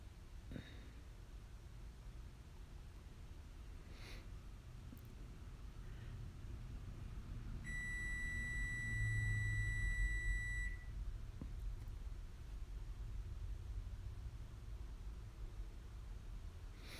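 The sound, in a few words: timer going off, beeping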